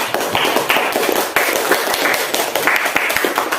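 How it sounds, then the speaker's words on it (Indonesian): A small classroom group claps for a student, producing sharp, uneven individual claps close by, with a few louder slaps punctuating the rhythm throughout. "Tepuk tangan untuk Yulia."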